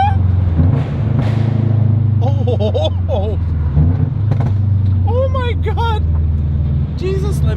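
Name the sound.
Toyota GR86 engine revving with PLM UEL headers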